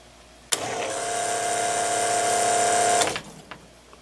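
A diaphragm pump on a cycle timer starts abruptly and runs with a steady, loud mechanical drone for about two and a half seconds, then shuts off and leaves faint clicks and a low background.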